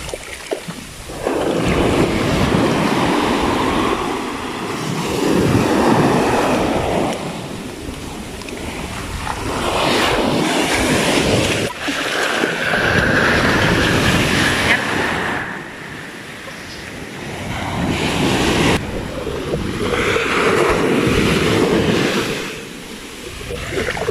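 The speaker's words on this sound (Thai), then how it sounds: "คลื่นแรงจริงๆ" Strong ocean waves rolling onto a shore in slow surges, a loud roaring wash rising and falling every few seconds with wind buffeting the microphone.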